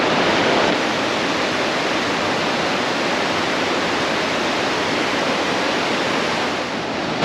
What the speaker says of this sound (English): It's really noisy with the water rushing